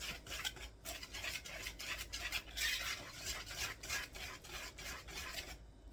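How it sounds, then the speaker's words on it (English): Muffin batter made from cake mix being stirred in a bowl, a steady rhythmic scraping and swishing of utensil against bowl, close and fairly quiet with no talking. "So we're going to mix that in together."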